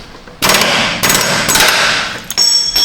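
A regular hammer strikes the ball joint of a Chevy Tahoe's control arm, sharp loud metallic blows with ringing decay, one followed by a second rapid burst and a final hit.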